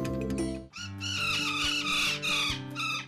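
Macaws calling: a series of loud, harsh, rasping squawks with strong harmonics, several calls in quick succession, close and clear with no talk.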